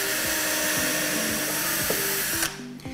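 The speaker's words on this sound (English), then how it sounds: "the first tool we're going to be using is our drill bit with the countersink on it" A power drill fitted with a countersink bit bores a hole into recycled wood for a birdhouse, whining loud and steady for about two and a half seconds before spinning down and stopping.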